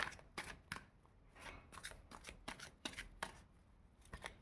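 Tarot cards being shuffled for a reading: a quick series of crisp, riffling card snaps and soft slides, close and fairly quiet, continuing throughout with no talking.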